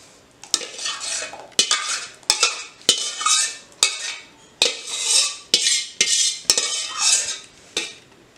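A spoon scrapes and knocks against a pan as cooked homemade tomato ketchup is emptied out, in a quick series of close, sharp metallic scrapes with brief pauses between them.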